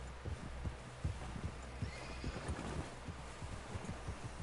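Horse neighing and whinnying in a video game, with hooves clip-clopping steadily underneath, loud and close with a low rumbling background.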